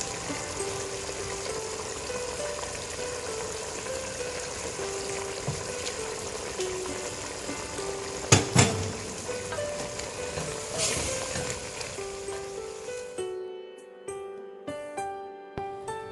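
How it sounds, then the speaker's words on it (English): Pork ribs cook in a covered pot over medium heat, a steady loud sizzle and bubbling frying sound running throughout, with a sharp clatter near the middle and a quieter, broken stretch at the end. "Continue cooking with the pot covered for 5 minutes. Turn the ribs over."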